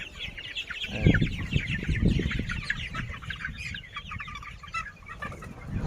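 A crowded poultry farm of 40-day-old Sonali super hybrid chickens and roosters, with dense overlapping clucks and chirps from many birds close by and occasional wing flutters.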